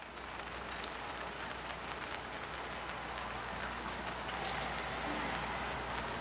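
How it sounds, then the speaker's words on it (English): Steady rain falling on a surface, a continuous even hiss of dense drops with no clear breaks, fairly close and moderate in level, alone without any voices. "It's raining."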